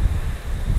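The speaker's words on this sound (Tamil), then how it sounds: "காற்று நல்லா அடிக்குது கைஸ்" Strong wind outside a French castle buffets the microphone in low, uneven gusts. The roar is close and steady with a soft rustle, and no voices are heard.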